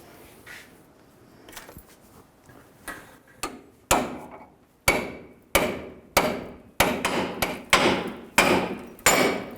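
Hammer striking a pickle fork wedged on the idler arm stud of a 2000-06 GMC Yukon, a series of loud sharp metallic blows that grow heavier and quicker, each with a short ringing decay.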